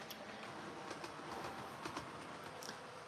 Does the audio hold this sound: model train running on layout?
yes